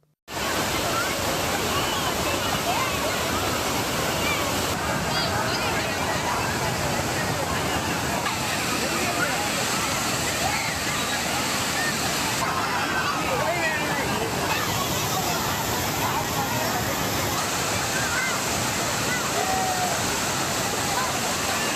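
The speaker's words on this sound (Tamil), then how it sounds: "தாமல் ஏரி முழு கொள்ளளவை எட்டி நிரம்பி வழிகிறது" Overflowing Dhamal Lake in Kanchipuram pours through its weir sluices in a loud, continuous roaring rush of water that stays dense and unbroken throughout, with possible faint voices buried beneath the torrent.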